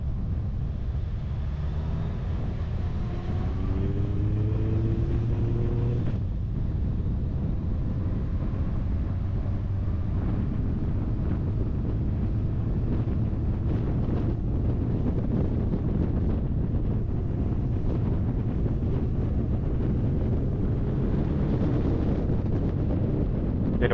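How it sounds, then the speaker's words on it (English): Motorcycle ride with heavy wind buffeting the microphone, a constant loud low roar of rushing air with the engine drone buried beneath, steady throughout with no talking. "that is the most freeing thing for me about riding a motorcycle"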